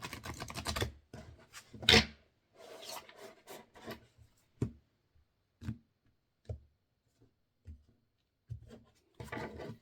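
Large oversized oracle cards are shuffled and rubbed together in a burst of papery rustling, followed by scattered soft flicks and taps with pauses between them.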